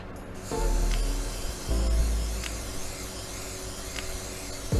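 An airbrush sprays paint onto a PlayStation 5 console shell, giving a steady airy hiss with a low compressor hum beneath, swelling in a couple of longer bursts.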